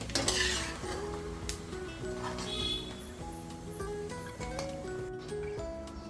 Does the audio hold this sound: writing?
no